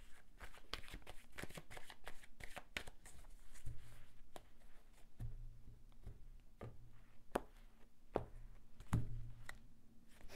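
Tarot cards are shuffled and drawn, producing a soft, continuous riffle of card flicks and small taps at close range, fairly quiet, with a few sharper snaps as cards are laid down.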